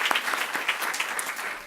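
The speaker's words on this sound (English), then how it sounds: "So if we can give her a quick round of applause" Short burst of audience applause at an awards ceremony, lively close clapping with individual hand claps audible, fading slightly at the end.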